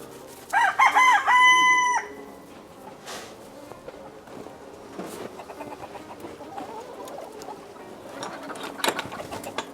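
A rooster crows loudly once near the start in a backyard chicken run, followed by scattered clucks and rustling from the flock at moderate distance.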